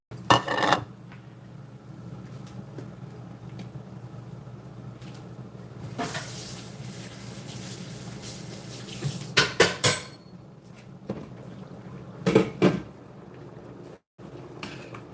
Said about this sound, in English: Just stirring in that okra.